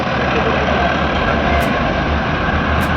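A vehicle ferry's engine drones loud and steady throughout as the boat carries vehicles and passengers, a continuous low rumble with no talk.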